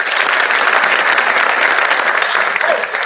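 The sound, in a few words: audience applause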